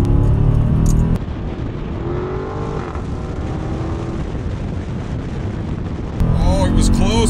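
A Dodge Challenger Scat Pack accelerates hard in third gear from about 45 mph, heard from inside as a loud, sustained engine roar and road rumble, louder at the start and end, with speech-like sounds over it.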